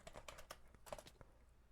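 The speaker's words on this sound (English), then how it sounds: "when I start typing" Quiet, rapid typing on a computer keyboard, a burst of about a dozen light key clicks in an irregular rhythm, close and alone.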